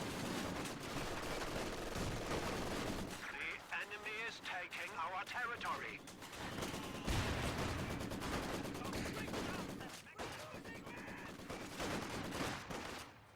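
Machine gun fire from an MG42 in the real-time strategy game Company of Heroes 2, with bursts and distant battle noise running continuously under steady commentary from a caster.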